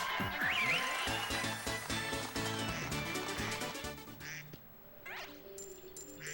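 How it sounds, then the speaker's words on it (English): Game duck from TTYD quacks a few times, bright chirpy calls riding over busy background game music, fairly faint overall. "hear the duck"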